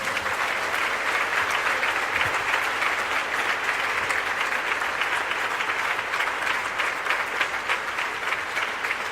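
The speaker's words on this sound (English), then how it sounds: "Let us clap for the altar of Calvary." A church congregation claps together in sustained, loud, even applause that goes on without a break.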